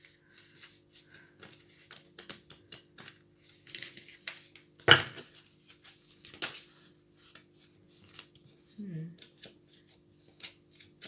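Tarot cards are shuffled and drawn by hand, soft close riffling, flicks and taps scattered across the stretch with one sharper slap midway, while a person talks quietly at intervals.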